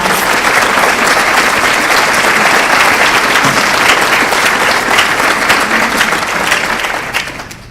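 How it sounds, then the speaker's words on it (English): A large crowd gives a sustained round of applause at a 2018 Hall of Fame induction luncheon, a dense, loud, even wash of clapping that holds steady before fading at the end. "please stand and let's give them a warm round of applause"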